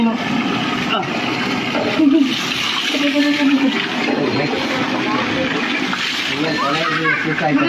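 Water splashes and sloshes steadily during a bath, heard throughout at close range while people keep talking over it.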